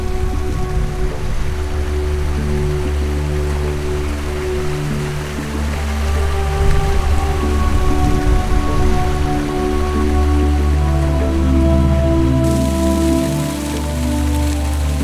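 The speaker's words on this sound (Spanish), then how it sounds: "ya podemos ver una pequeña cascada" Small waterfall at the source of the Amazon high in the Andes, a loud, close, continuous rush and splash of falling water, broadband and steady with slight surges, no voices.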